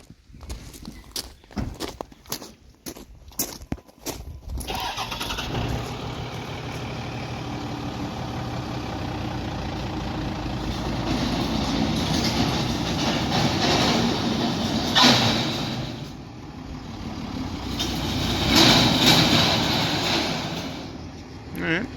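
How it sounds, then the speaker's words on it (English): A Ram 2500 dually truck doing burnouts in a driveway gives a loud sustained roar and rumble after a burst of clattering knocks, swelling and easing in waves over about twenty seconds. "Just burnouts in this driveway, it's fine."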